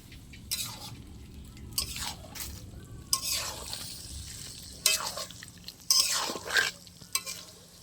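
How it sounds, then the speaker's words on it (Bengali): A pot of Malabar spinach curry cooked with fish head bubbles and sizzles on the stove, with soft simmering in the background and a few louder wet stirring scrapes close by, heard alone. "আর ঢাকা দেবো না, এইভাবে একটু ফুটিয়ে নেব।"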